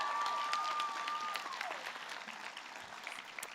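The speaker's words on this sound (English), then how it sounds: "So can I get a round of applause?" Audience clapping at a nursing school pinning ceremony, a sustained wave of applause from a large crowd in a hall, with a faint whistle early on, gradually tapering.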